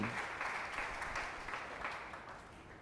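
A church congregation applauds to acclaim the Lord after a healing, with sustained, steady clapping from many hands filling the room, mid-distance and fairly even in loudness throughout.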